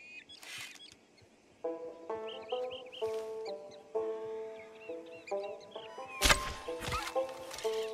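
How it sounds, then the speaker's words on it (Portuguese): Wild turkeys in the video game Red Dead Online calling in a series of short, tonal, clucking bursts at moderate distance amid quiet outdoor ambience, broken near the end by a sudden loud sharp blast. "Avistei alguns perus selvagens."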